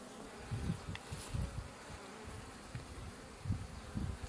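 Honeybees buzz in an opened hive during a search for the queen, a low, quiet, steady drone with faint pulses of nearby wingbeats and no talk.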